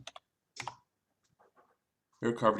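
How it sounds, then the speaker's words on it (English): Brief clicks and taps on a computer keyboard while a search term is typed, a few quiet isolated bursts before a voice starts talking near the end. "So let's see if we type it up here."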